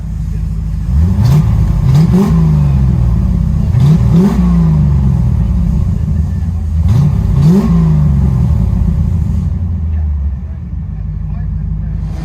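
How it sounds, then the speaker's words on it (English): A 1990 Chevy Corvette with a 5.7L V8 and Black Widow exhaust revs hard in several loud, close bursts that rise and fall, with a voice talking over the engine throughout. "Chevy Corvette 1990 with Black Widow Venom."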